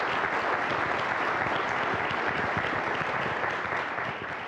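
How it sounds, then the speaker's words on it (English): Audience at a Duke University energy conference applauding, a continuous wash of many hands clapping at moderate distance, steady throughout and easing slightly at the end. "Let's give them all a round of applause."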